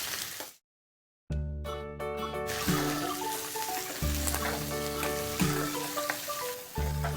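Vegetables with green chilies frying in a pan, a loud, close, continuous sizzle that drops out briefly near the start and then resumes, with a steady tonal hum running underneath.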